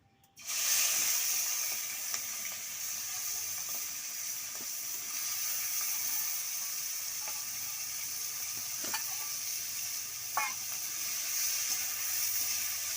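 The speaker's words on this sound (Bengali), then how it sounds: "এবার আমি চিংড়ি মাছগুলো তেলের মধ্যে দিয়ে দিচ্ছি" Prawns hit hot mustard oil in a kadai with a sudden loud hiss that settles into a steady, close sizzle, broken by a few faint clicks, with no talking.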